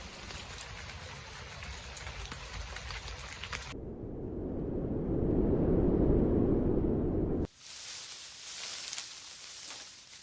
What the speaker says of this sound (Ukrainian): Звуки дощу вітру та осінніх листочків.